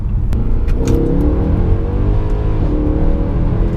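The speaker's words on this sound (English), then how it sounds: "Oh, that's wheel spin." A Mercedes C63 AMG's M156 engine revs hard and roars steadily as the tires spin, loud and close, with a brief squealing edge near the start.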